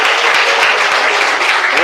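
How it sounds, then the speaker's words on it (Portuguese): A church congregation claps in praise to Jesus, loud, continuous and close, with a packed wash of hands and voices faintly mixed in throughout. "Palmas de glória a Jesus."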